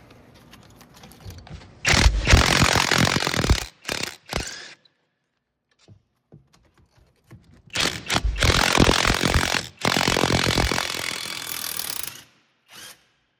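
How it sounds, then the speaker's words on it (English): An impact gun fitted with a swivel socket removes rusted 17mm brake caliper bracket bolts on a 2003-2008 Pontiac Vibe or Toyota Matrix, with two loud bursts of rattling hammering, each a few seconds long, separated by short clicks and quiet. "I'm going to use a swivel socket on my impact gun, and we'll take them off that way."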